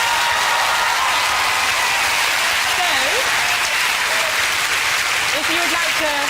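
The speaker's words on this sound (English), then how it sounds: "That's worth a round of applause." A studio audience claps and cheers in a continuous, dense burst of applause, with a voice briefly heard over it.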